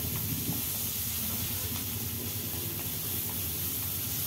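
Onions sizzling and hissing in hot oil with mustard seeds for an alasande kalu palya, a steady close frying hiss with faint crackles running unbroken throughout, no talking.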